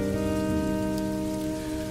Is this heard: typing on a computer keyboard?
no